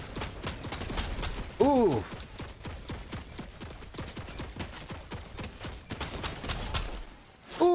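A game turret fires rapid bursts of automatic gunfire, with dense, steady shots throughout and one louder blast partway through. A voice reacts over the shooting.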